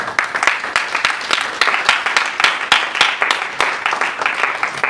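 A church congregation applauding: dense, steady clapping from many hands that fills the whole stretch at a lively, even level, with no voices standing out.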